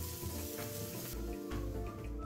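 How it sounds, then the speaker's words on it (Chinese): Ginger and minced garlic frying in hot oil over medium heat, a dense, continuous sizzle and crackle close by with no voices. "接着将剁碎后的蒜末倒入一起爆香，一直油爆至蒜末微微金黄"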